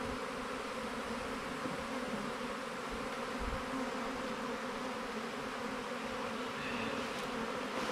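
A honey bee hive gives off a dense, steady buzzing drone that stays even and close throughout, with only faint handling noises and no speech.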